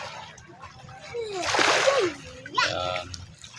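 A child splashes while bathing in the sea by a seaside home, with one burst of splashing water in the middle and another shortly after, while voices talk nearby.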